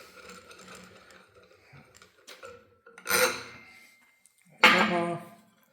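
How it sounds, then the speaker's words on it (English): Ratchet wrench loosening a nut on a Yamaha Wolverine or RMAX secondary clutch, giving two short bursts of close, quiet clicking separated by pauses. "Take this nut back off."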